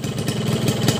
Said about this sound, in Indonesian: Di mesin juga menurut gua ya, itu suaranya lebih adem kalau digeber begini nih.